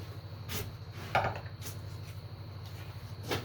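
A new knife chops into wood, sending chunks flying: a few sharp, close thwacks spaced irregularly over a low steady hum.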